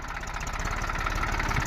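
Diesel tractor engine running at raised throttle while ploughing a field, a steady close throbbing drone with fast regular firing pulses and a slight rough knock, continuous and loud, no talk.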